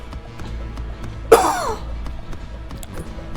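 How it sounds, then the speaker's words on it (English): A single short, sharp cough from one person, close and sudden, over a low background hum. "And I'm already coughing."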